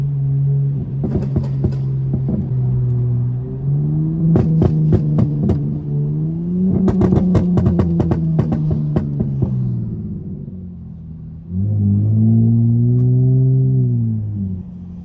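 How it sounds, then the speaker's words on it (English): A tuned Dodge Charger SXT drives along a back road, its exhaust droning and rising as it accelerates, then crackling with bursts of rapid burbles and pops between pulls, heard loud and close from inside. "I cannot get over these burbles"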